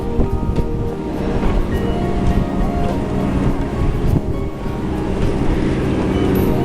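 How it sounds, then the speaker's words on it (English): Steady drone of a large ski boat's engine out on a lake, with lapping waves and light wind noise filling the background throughout. "There's a big ski boat."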